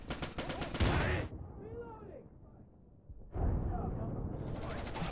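A frag grenade bursting in the video game Insurgency, a heavy blast and crackling rumble that fades away, then another loud rush of noise, with a voice talking over the start.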